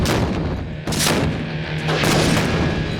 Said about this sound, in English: Wow, it definitely exploded.